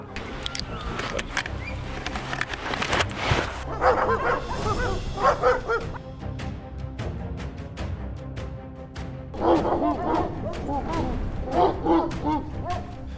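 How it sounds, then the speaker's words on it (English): Several hounds bark and yelp in uneven bursts, fairly close, trailing a wild boar through a swamp, over a continuous background rumble of a hovercraft. "The hounds barked loudly, following the trail of a huge boar."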